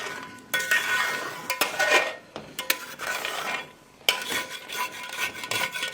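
A spoon scrapes and clatters in a pan of chicken with cream and kasuri methi while it is stirred, giving irregular metallic rasps and knocks with short pauses between strokes.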